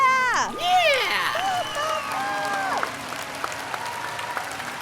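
An enthusiastic studio audience on a marriage game show applauds and cheers, a lively clapping bed running beneath a prominent speaking voice and fading toward the end.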